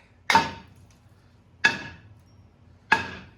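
Three hard hammer blows strike a rusted brake rotor on a 2002–2010 Dodge Ram 1500, each a sharp metallic clang with a short ringing decay, evenly spaced about a second apart and close up, with no talking.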